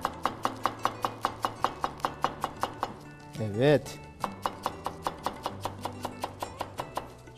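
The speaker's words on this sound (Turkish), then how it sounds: "Çok ince doğrayacağız kıvırcıkları da." Curly lettuce being cut very finely with a knife on a board in a kitchen: a rapid, even run of crisp, close chops, briefly interrupted by a short word from a person and a scraping sound, then the steady chopping resumes.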